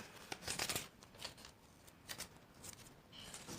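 Scissors cutting a length of adhesive tape indoors, a few quiet crisp snips and rustles in short bursts, faint and close, with no talking.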